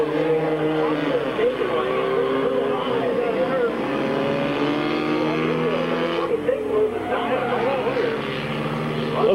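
Race cars roar around Midvale Speedway on the final lap of the 1999 fall classic, a steady loud engine drone with shifting pitch as the field passes, broken by a brief dip midway before the noise surges back.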